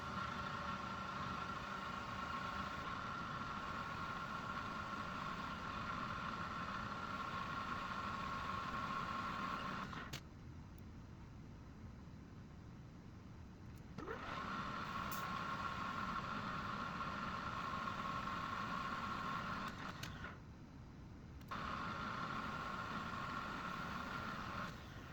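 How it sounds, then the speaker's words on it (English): A VFD-driven metal lathe, a Clausing-Colchester with a D1-6 spindle, spools up to about 1200 rpm, giving a steady mechanical whine and hum that drops away twice for a few seconds before starting again. "The lathe takes a little bit to spool up because of the amperage limitation on the VFD."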